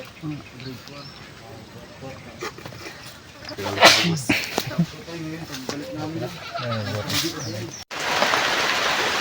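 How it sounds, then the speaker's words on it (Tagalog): Rain patters steadily outdoors under people talking, then swells into a louder, even downpour hiss alone in the final seconds. "inabot na po kami ng ulan na naman"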